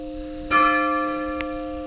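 A single church bell strikes once outdoors in a village, loud and near, and its ringing tone fades away slowly with no talk over it.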